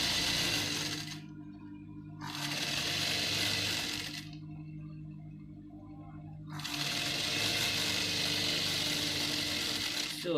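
A sewing machine runs in bursts while stitching the front facing of a basque hipline gown, a steady mechanical whir that stops and restarts twice, close and moderately loud.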